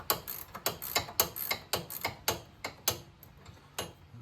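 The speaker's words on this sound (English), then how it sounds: "And I'm going to take that nut on off." A ratchet wrench loosens a strut nut on a 2002 Ford Taurus SES, giving a close series of sharp metallic clicks in short, uneven bursts, with no talking.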